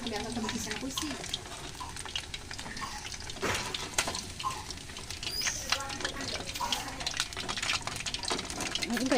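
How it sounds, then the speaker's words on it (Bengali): Dense steady patter of rain outside, with scattered sharper drips and taps, and faint speech in the background. "বাইরে বৃষ্টি হইতেছে"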